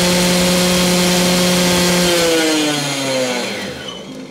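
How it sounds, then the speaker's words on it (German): A moped engine fitted with a size 74 carburetor jet runs loud and close at a high, buzzing idle, then its pitch drops away and the sound fades as it winds down near the end. "Ich würde sagen, wir kicken den gleich nochmal an."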